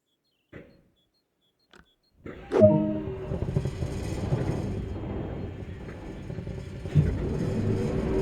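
Diesel locomotive engine in Train Sim World, starting up after a few faint clicks, then a heavy low rumble that builds and settles into a steady idle with rising revs near the end.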